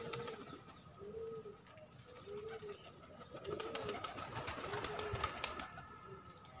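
Pet pigeons, including young birds out flying, give soft repeated coos at a steady rhythm near the loft, with light rustling and faint clicks around them and no talk.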